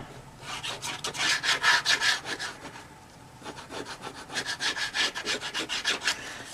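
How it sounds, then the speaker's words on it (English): A bone folder rubs repeatedly across paper on a handmade folio, a steady rhythmic scraping in two bursts of back-and-forth strokes, close and fairly loud with no talking. "Burnish, burnish, burnish."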